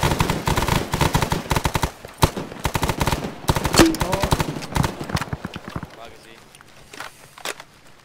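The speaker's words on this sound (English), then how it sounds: "You're getting shot at." Rapid bursts of video game gunfire crack repeatedly, close and loud, with machine-gun rattles and scattered single shots over several seconds, thinning out toward the end as the firing becomes sparse.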